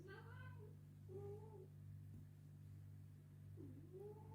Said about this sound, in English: My cat has just seen a bird, sorry.